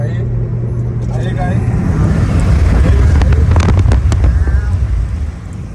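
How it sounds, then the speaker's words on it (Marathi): A car drives fast along a road, engine and road roar mixed with heavy wind buffeting the microphone, loud and close, with people talking over it. "फुल स्पीडनी भाई गाडी चालू दे"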